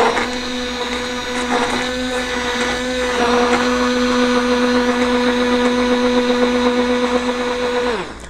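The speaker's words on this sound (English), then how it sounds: "I'm going to use my immersion blender to blend it well." An immersion blender blending lotion whirs steadily at close range for several seconds, its motor tone rising slightly midway before winding down abruptly at the end.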